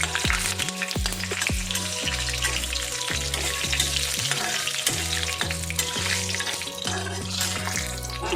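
Cashew nuts fry in a little hot ghee in a pan, a loud, dense, continuous sizzle close up, with soft background music underneath.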